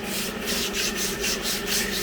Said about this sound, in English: Looks like we're sanding the edges here,